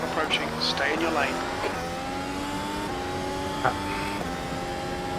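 A race car in the iRacing sim at Mugello for the Tuscan GP: a close engine whine climbs in pitch through several gear shifts, with short breaks between them.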